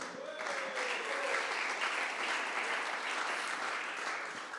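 Audience at a Le Wagon demo day in Paris applauds a partner being introduced, a dense, steady wash of many hands clapping at even loudness throughout, with no voices over it.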